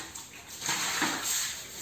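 Water poured and splashed across a room floor while it is washed during a cleaning of a village house; a steady, moderately loud broadband rush with swells as more water is thrown, no talking.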